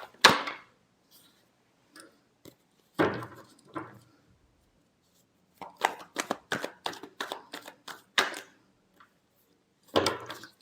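Tarot cards are shuffled by hand in short, crisp bursts of riffling and slapping, close and fairly loud, separated by pauses of silence, with a quick flurry of several shuffles in the middle.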